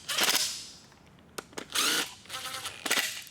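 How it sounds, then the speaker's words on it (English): Short ratcheting and whirring bursts from a 13mm socket driver snugging down oil pan bolts on a Ford 5.4L 3V engine, several loud close-up spurts separated by brief pauses. "I'm just gonna use my 13mm socket just to kind of snug those down"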